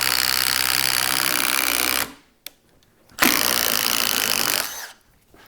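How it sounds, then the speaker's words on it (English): Impact driver boring a 1-inch paddle bit into wood, a loud continuous buzzing whir that runs for about two seconds, stops briefly, then resumes for another stretch before cutting off. "Drilling with an impact driver for these 1-inch bits, effortless and fast."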